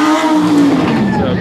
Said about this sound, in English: It's a pretty good sounded Lambo.